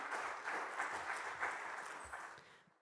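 An audience applauds after a talk on artificial intelligence, a steady wash of clapping that slowly thins and fades toward the end.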